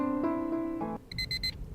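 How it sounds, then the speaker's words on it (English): An alarm clock in the Dark Nights video game goes off: a few tonal chime notes, then a quick series of four bright, high beeps close up. "The alarm clock went off right beside me."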